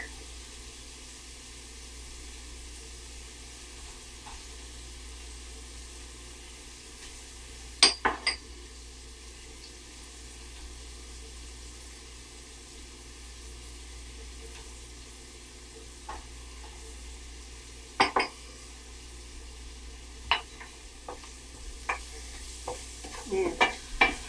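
Fennel sautés quietly in oil with salt and pepper, a soft continuous sizzle with scattered spoon clinks and scrapes against the pan that cluster near the end.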